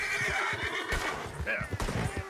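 A horse whinnies sharply over light hoofbeats and game ambience in Red Dead Redemption 2, loud and close, with a brief voice underneath.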